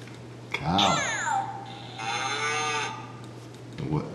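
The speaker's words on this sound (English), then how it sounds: "when you press this one, this is a cow. What does a cow say?" Electronic toy sounds a recorded cow moo, a drawn-out lowing call near and fairly loud, with a voice briefly audible at the start and end.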